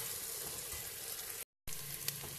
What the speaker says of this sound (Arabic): كيما تشوفوا نحرك